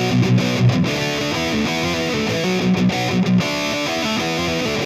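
A distorted electric guitar chugs through the main riff of a song, played up the octave, with dense palm-muted power chords and short rhythmic breaks over a full band mix, loud and continuous.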